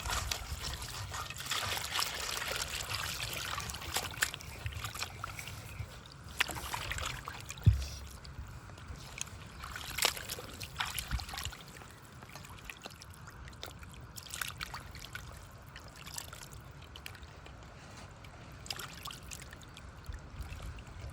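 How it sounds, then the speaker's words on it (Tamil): Water is poured over dried fish as it is washed, giving a steady soft trickle and splashing with occasional louder sloshes, faint and close, with no talking. "இப்போ பார்த்தீங்கன்னா நம்ம தண்ணி ஊற்றி நல்லா கழுவிக்கிறோம்"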